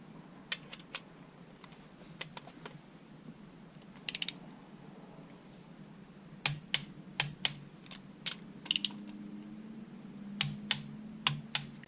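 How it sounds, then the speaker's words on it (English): A torque wrench tightens connecting rod bolts during a Toyota 7AGE engine assembly, giving faint, sparse ratcheting clicks in short clusters over a quiet workshop background. "now I'm going to tighten these rod bolts up"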